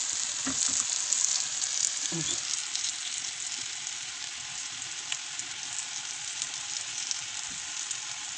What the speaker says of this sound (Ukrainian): Ось, і тоді кладемо жарити.